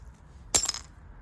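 A single light, sharp click rings out when a piece of obsidian is tapped while flintknapping. The crisp strike is close and brief, with a short metallic-sounding ring, and the surrounding moment is otherwise quiet.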